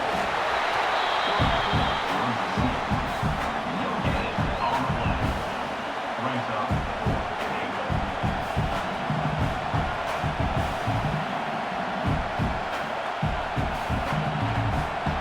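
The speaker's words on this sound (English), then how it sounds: "This crowd trying to do its part to get inside the kicker's head." A stadium crowd in a college football video game roars steadily before a field goal attempt, a dense, loud wash of cheering and shouting that holds throughout with no clear pauses.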